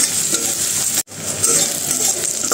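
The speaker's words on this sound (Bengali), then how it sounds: "আর কাঁচামরিচটা একটু ভেজে নেব।" Green chilies fry in hot oil in a pan with a steady, close sizzle and scraping stirs, broken by a brief gap before the crackle resumes.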